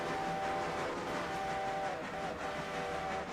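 A GN5 chime train whistle sounds in a train video game, a sustained chord held over a steady rumble of moving rail cars, moderately faint and unbroken for a few seconds.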